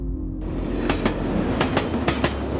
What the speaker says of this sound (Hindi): कुछ देर बाद उस रेलवे स्टेशन में एक बहुत ही बड़ा ट्रेन रुकता है।